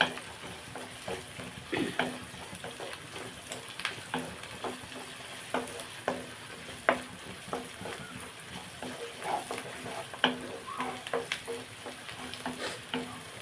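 Mutton gongura cooking in a pan, with a steady sizzle of frying under repeated sharp scrapes and clinks as a spoon stirs through it, close and moderately loud, no talking.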